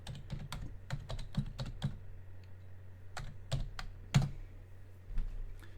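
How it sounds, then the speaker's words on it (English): Quick, light keystrokes come in a short burst on a computer keyboard as an IP address is typed. A few more scattered taps follow in a quiet room with a low background hum. "we simply type in the known IP address"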